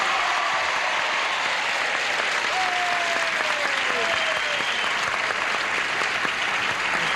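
A 1970s game show studio audience, Tattletales, breaks into loud, continuous applause that fills the room evenly, with a faint whistle or cheer briefly rising over the clapping.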